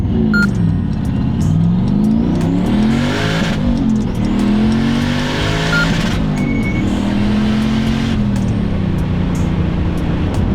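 A Volvo makes a launch-control acceleration run with flat-foot shifting. The engine roars loudly and continuously, rising in pitch through the gears with brief dips at each shift, heard from inside the car with no talking.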